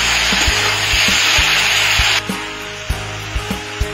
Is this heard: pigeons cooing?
no